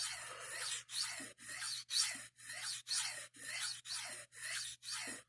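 A knife edge drawn repeatedly across a sharpening stone to push the burr over, a steady rhythm of about ten soft rasping strokes with brief pauses between them, close and fairly quiet.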